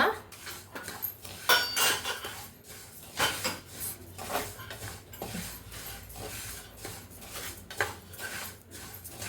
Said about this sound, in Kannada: ಇವಾಗ ನೋಡಿ ಜೀರಿಗೆ ಹಾಕ್ತಾ ಇದ್ದೀನಿ ಜೀರಿಗೆನೂ ನೀಟಾಗಿ ಹುರ್ಕೋಬೇಕು ಕೆಂಪಗೆ ಬರೋಗಂಟ